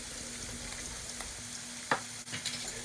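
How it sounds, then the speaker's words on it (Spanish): Onion softening in oil and vinegar in a pan gives a steady, moderate frying sizzle throughout, with a couple of brief utensil scrapes near the end and no talking. "Voy añadiendo un poquito de aceite y vinagre a la cebolla y lo voy a dejar ahí a que vaya ablandando"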